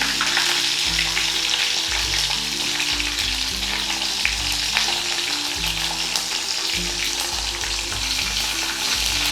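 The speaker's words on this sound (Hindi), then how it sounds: "राई जो है वो स्प्लिटर होने लग गई है। अब मैं इसमें ये हरी मिर्ची भी डाल दूँगी।" Mustard seeds and green chillies splutter and sizzle in hot oil with asafoetida while Rajasthani onion pickle is made, a dense continuous crackle with occasional stirring knocks and no talk.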